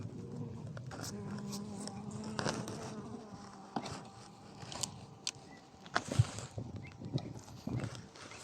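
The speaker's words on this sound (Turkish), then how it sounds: "İçerisi arı dolu." Close, constant buzzing of many bees, with soft knocks and rustles from handling a hive.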